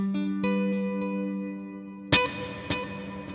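Clean guitar notes ring out through an ambient reverb preset on a NUX MG30 guitar processor, a few sustained plucks and a later strummed chord trailing off in a soft, spacious wash.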